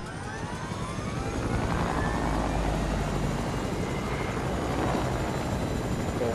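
A steady, loud rotor drone of a helicopter in the video game Fortnite fills the whole stretch, constant and close with no pauses.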